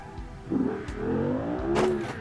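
A racing-game car's engine revs and powers out of a slide, the motor rising and whirring steadily with a brief squeal of tyres, close and fairly loud.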